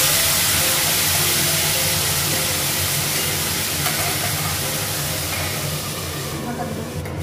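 Water poured into a hot pan with turmeric hisses and bubbles in a steady, loud steam roar that persists the whole time, easing off slightly toward the end.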